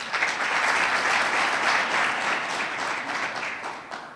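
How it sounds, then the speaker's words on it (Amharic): Warm applause from an audience at an Ethiopian foundation promotional event, greeting the Zamir acoustic band; a steady, dense wash of clapping from a moderately distant crowd that tapers slightly near the end. "ለዛሚር አኩስቲክ ባንድ አንድ ላይ እስኪ ሞቅ ያለ ጭብጨባ።"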